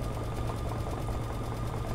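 An embroidery machine stitches out a 3D organza flower design, giving a steady, continuous mechanical hum with a fast, even needle rhythm, moderately loud and alone.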